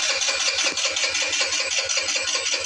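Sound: GY6 50cc scooter engine starting and running

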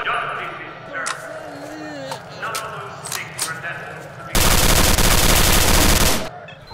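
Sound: armor-piercing gunfire in video game STALKER: Shadow of Chernobyl

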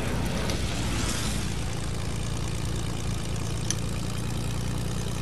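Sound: aircraft propeller engine approaching in Fortnite video game

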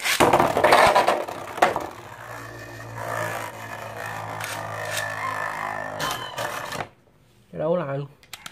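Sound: two Nado spinning tops battling

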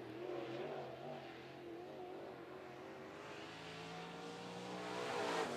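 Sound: crate late model race car on speedway qualifying lap

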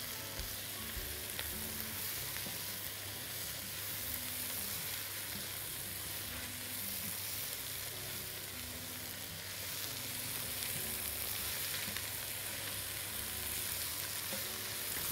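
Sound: spinach and coriander sautéing in a pan

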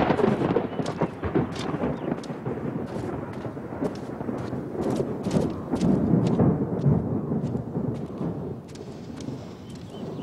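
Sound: thunder

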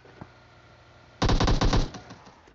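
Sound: gunfire in the video game PUBG Mobile

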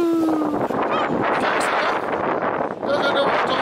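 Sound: strong wind

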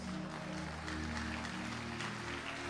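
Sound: congregation applause for Mama

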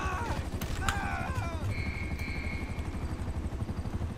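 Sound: helicopter in video game GTA Online

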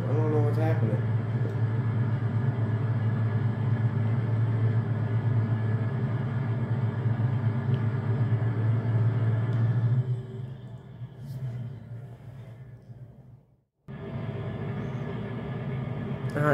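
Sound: combine harvester engine rumbling in video game Farming Simulator 22

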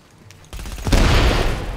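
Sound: automatic turret gunfire in The Division video game

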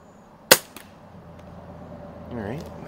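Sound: Walther LGR scoped air rifle shots with wadcutter pellets

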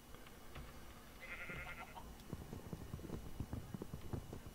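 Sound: sheep bleating in a video game

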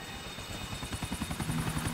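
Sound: helicopter, from the video game GTA IV

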